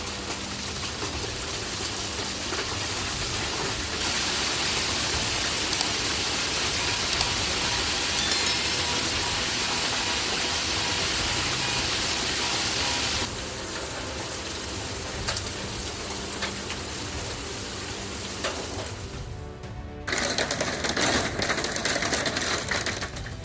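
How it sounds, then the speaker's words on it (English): Golf-ball-sized hail pounding down during a storm in Rapid City, South Dakota, a dense continuous roaring clatter that stays loud throughout and shifts in intensity near the end. "Hailstones the size of golf balls pounded Rapid City, South Dakota."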